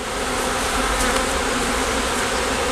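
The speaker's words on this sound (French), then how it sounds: "Et ça c'est des abeilles sauvages" A steady, dense buzzing of wild bees swarming close by, continuous and loud with no voices.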